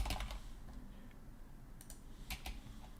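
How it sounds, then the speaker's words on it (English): Typing on a computer keyboard while writing React form code, with sparse light key clicks in small clusters over a steady low background hum, fairly quiet and close. "let's type this out"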